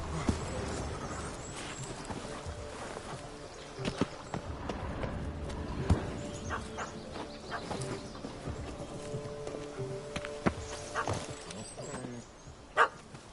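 A puppy in the Astro Bot video game barks several times in short, sharp yelps scattered across the stretch, set against steady in-game background music and ambience.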